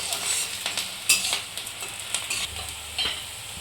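Chopped onion fries in a hot pan until browned. A close, steady sizzle runs under repeated scraping and clinking of a spatula against the pan in an uneven rhythm, with no talking.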